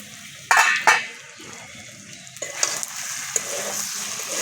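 A pot lid lifted off mutton curry on the stove: a sharp metallic clank, then a steady sizzle of frying meat and spices with light scraping and rattling of cookware.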